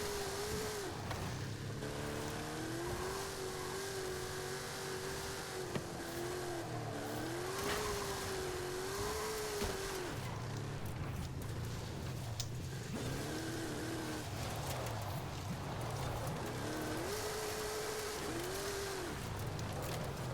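A race car engine in Forza Horizon 5 revs and shifts steadily, rising and falling in pitch as it accelerates around a track, at a constant moderate level with faint tire noise.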